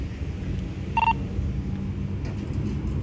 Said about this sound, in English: Before you make that phone call